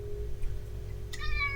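A pet cat gives a single short meow near the end, clear and close over a low steady background hum.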